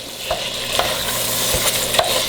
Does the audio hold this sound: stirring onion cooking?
yes